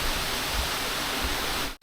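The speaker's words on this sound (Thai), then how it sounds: "น้ำตกกาอ่างนะครับ จะไหลลงไปถึงลำธารด้านล่างเลยครับ" Ka-Ang waterfall in Nakhon Nayok pours down into the stream below, a steady close roar of rushing water that cuts off abruptly at the end.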